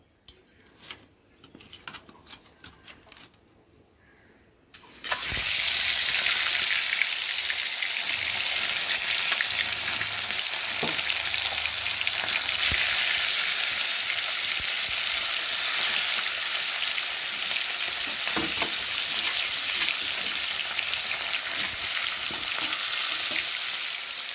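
Live fish go one by one into smoking-hot oil for a spicy fish curry. A few quiet clatters give way to a sudden loud, roaring sizzle that continues strongly with crackling and spattering.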